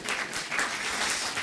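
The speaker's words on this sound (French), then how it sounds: "on applaudit Véronique et Jacques" A studio audience applauds a couple after a French real-estate TV segment, a brief burst of broadband clapping at moderate volume, dense and even, with no speech over it.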